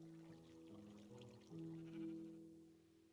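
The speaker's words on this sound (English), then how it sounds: "I heard a sheep." Sheep bleating in the Minecraft video game, a few wavering nasal bleats in a row, fairly quiet with no talk over them.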